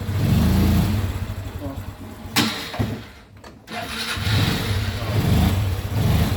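A Honda Wave CX 110 motorcycle with a jerky, bucking running fault idles and runs in first gear, a steady low, close engine rumble that briefly dips mid-way before picking back up, with a voice speaking over it.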